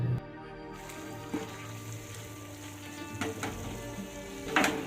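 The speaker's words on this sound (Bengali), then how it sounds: "দেখো আবারও কিন্তু মশলাটা নেড়ে চেড়ে আরেকটু কষিয়ে নিতে হবে" Masala for dim telani, a Rangpur egg dish, sizzles quietly in a pan while a spoon stirs it, with a few scraping knocks against the pan close by.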